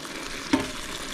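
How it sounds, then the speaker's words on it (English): Pasta sauce simmers in a pan inside a camper van in the Nevada mountains, giving a soft, steady bubbling sizzle with one brief sharper pop midway. "I added my sauce. I'm just gonna let this simmer"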